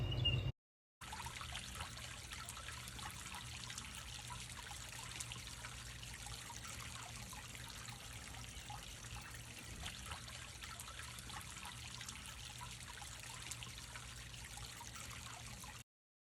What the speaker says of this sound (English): when I turn on the hose, obviously this is the flow that is coming out of the hose